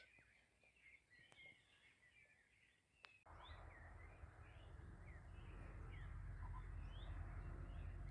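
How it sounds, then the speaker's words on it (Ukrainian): A quail gives several short calls repeatedly in the distance in a forest, joined partway through by a louder, steady outdoor rumble. "Ага, перепілка."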